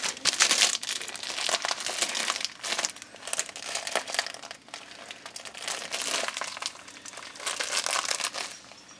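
A vegetable packet for split pea soup is crinkled and pulled open by hand, making close, continuous plastic crackling and rustling in uneven bursts with brief pauses.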